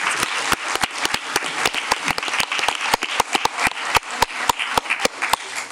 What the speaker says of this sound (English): I just want to give them all a round of applause as well.